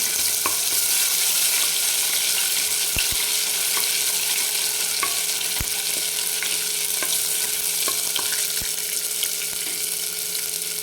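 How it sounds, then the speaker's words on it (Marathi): Ginger, garlic and coriander paste fries in hot oil with a steady, loud sizzle throughout, broken by occasional sharp clicks of stirring utensils. "तेल छान गरम झाल्यानंतर थोडंसं आलं लसूण आणि कोथिंबीर याची थोडी पेस्ट टाकून देते"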